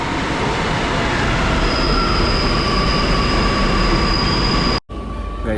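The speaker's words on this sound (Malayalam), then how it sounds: "മെട്രോ വരണ മഴയത്ത് വരണത് നോക്കിയേ" A Kochi Metro train passes near Kalamassery in the rain as a loud, close, steady rumble with a high, thin wheel squeal running over it. The sound cuts off abruptly near the end.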